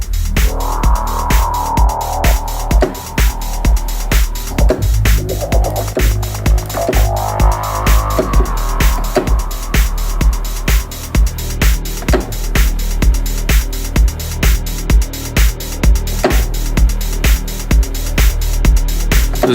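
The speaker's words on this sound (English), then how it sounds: "There's definitely some distortion here in the effect." A melodic prog house production plays a distorted synth over a steady, pulsing four-on-the-floor beat, dense and loud throughout without any voices.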